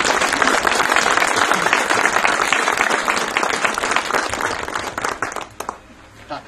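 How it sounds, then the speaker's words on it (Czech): Loud, dense applause from a concert audience at a Dvořák cello concerto performance in Vysoká u Příbrami, sustained clapping that tapers off near the end. "Prosím o potlesk."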